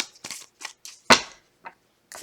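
Tarot cards being shuffled by hand in short bursts, several quick riffling flurries with brief pauses between, one louder and sharper, close and alone.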